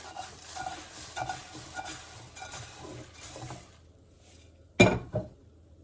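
Crispy rice is stirred and scraped in a pan, with steady rattling and light clinks for several seconds. Then comes a quieter pause and a sharp metallic knock of a utensil against the pan.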